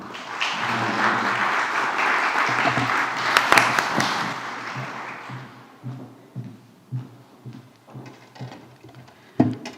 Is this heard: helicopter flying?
no